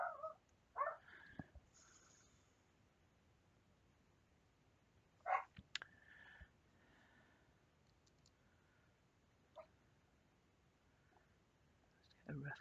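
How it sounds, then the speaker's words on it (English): Dogs barking at someone outside, heard as a few short, sharp bursts at a distance in a quiet room, with long silent gaps between them. "Sorry, my dogs, there's someone outside."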